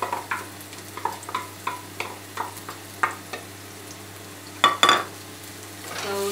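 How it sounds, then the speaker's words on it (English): Chopped garlic fries in about two tablespoons of cooking oil, a close, steady sizzle broken by regular light scraping and stirring taps, with a louder clatter near the end and no voices. "So to brown the garlic to get a good smell and a little bit brown, light brown."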